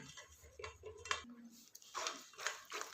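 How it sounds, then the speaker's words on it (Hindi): A metal spoon stirs and scrapes soaked wheat in a strainer over a pot, giving close clinks and scraping strokes in uneven bursts with light background noise. "इसे चम्मच से थोड़ा सा इस तरह से हिला लेते हैं ताकि ये जल्दी से छन जाए।"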